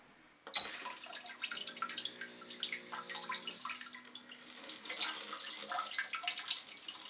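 Warm water sprays from the rear nozzle of a newly installed Alpha bidet toilet seat, a steady hissing spray close by that starts abruptly and keeps running, with a brief tonal hum partway through.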